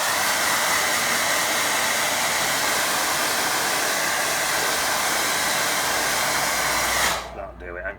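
A hair dryer blasts a watercolour painting dry, giving a loud, steady whooshing hiss that runs unbroken for about seven seconds and then cuts off abruptly.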